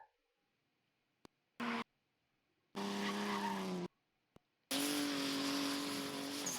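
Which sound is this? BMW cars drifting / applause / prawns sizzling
BMW cars drifting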